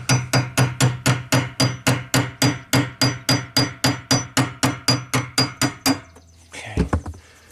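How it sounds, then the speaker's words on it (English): About twenty rapid, evenly spaced metallic hammer blows knock a ring off a fuel part on an abandoned Audi turbo car, loud and close, ending with a brief clatter. "so I'm just hammering this ring off"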